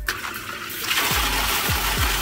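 Submersible sump pump switching on and spraying water upward like a fountain, a sudden loud steady gushing rush after a brief quiet start, with a few low gurgling pulses.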